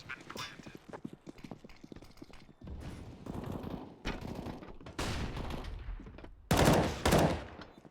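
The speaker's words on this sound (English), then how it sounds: "Tyrone actually getting a beautiful shot from upper onto Emily" Gunfire during a Counter-Strike match, with rapid clattering shots and bursts scattered across the stretch, growing denser and louder toward the end amid game noise.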